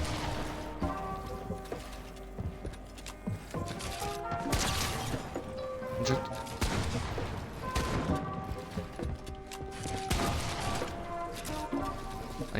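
Gunfire in the battle royale game Fortnite, repeated bursts of rapid shots and impacts spread across the fight, mixed with game music and effects, fairly close and loud.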